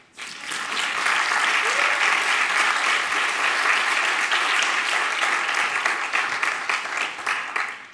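Lecture audience applauding at the close of a philosophy talk, a dense steady clapping from a sizable crowd that swells quickly, holds for several seconds, and thins near the end.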